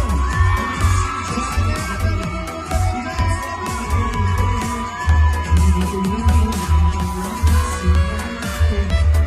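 A live crowd at an outdoor food festival in Manila yells and cheers loudly and continuously over amplified music with a steady low beat, the shouts rising in waves throughout.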